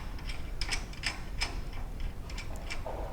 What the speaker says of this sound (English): And we put the nut back on.